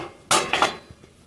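Ceramic tea cups knocked together as they are picked up beside a clay stove in a village kitchen: two or three quick, close clinks in a row, then a faint tap or two, with no voices.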